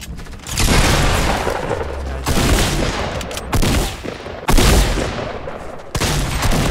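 Loud, booming gunfire in the video game Fortnite Battle Royale arrives in several heavy bursts with explosive impacts, close and dense throughout, with hardly any talk.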